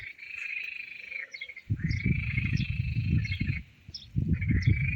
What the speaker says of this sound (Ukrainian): Чуєте, як жаби кричать?